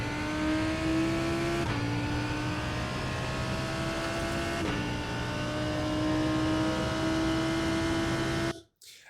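Lamborghini Huracan GT3 in iRacing at Imola, its engine rising in pitch through repeated gear changes, each upshift briefly dropping the note before it climbs again, then cutting off abruptly at the end.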